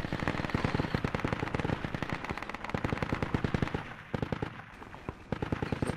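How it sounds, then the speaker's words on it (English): Video game gunfire in Project Reality: dense, loud bursts of rapid automatic weapon fire, overlapping shots rattling continuously with brief gaps, no talking. "Where are you firing?"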